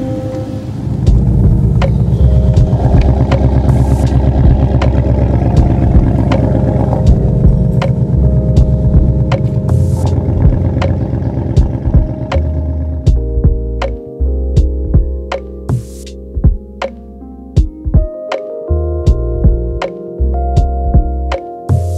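Ford Mustang engine struggling to start, a loud sustained cranking roar that fades into uneven bursts of sputtering revs and stutters.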